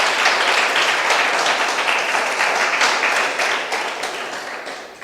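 Church congregation clapping hard during a Spanish-language service, a loud, dense burst of applause that slowly tapers off over several seconds.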